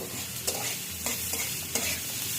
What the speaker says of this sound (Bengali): এখন এই যে অল্প আছে শাকটাকে ভেজে নেব